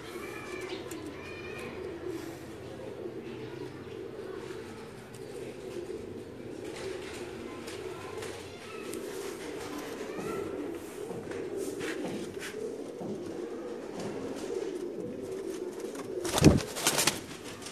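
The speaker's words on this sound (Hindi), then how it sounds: "बड़े स्पेशल घर वाला बटेरा कबूतर है" Soft, repeated cooing from a Batera pigeon kept at home, low and steady throughout with faint shuffling, and a sharp brief clatter near the end.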